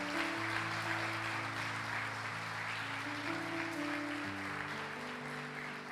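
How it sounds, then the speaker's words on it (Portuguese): A church congregation applauds during an evening Sunday service, steady dense clapping filling the whole stretch beneath sustained organ or keyboard chords. "Pode aplaudir, pode aplaudir, pode aplaudir."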